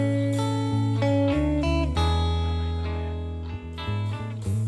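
A song from an album played live, with full band chords that shift steadily and strike cleanly, a sustained low end, and no singing yet, at moderate loudness.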